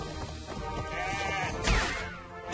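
A billy goat in Crash Bandicoot Warped gives a wavering bleat over game music and sound effects, mid-level and close, with no talking.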